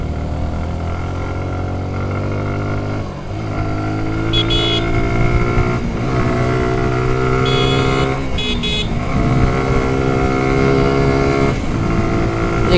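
A motorcycle or car engine held high against an 8000 RPM rev limiter, a loud, steady harmonic drone with brief dips and bursts as the limiter cuts in, continuous across the whole stretch with no talk.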